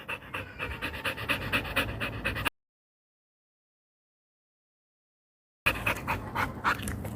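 A dog pants rapidly and close by in quick rhythmic breaths, cut off by several seconds of complete silence before the panting resumes.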